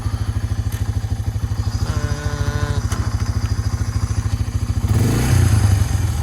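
A Honda 300 ATV pushing a snow plow, its small engine thumping in a steady, rapid idle pulse with a brief clattering shift and a louder revving surge near the end, close up with no talking.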